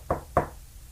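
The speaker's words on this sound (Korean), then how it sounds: "단순한 노크 소리지만 유독 오만에게는 평범하게 들리지 않는 소리였다." Two quick knocks land on an old wooden door, close and fairly soft, then a brief quiet room.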